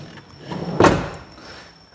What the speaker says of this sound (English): open the sliding door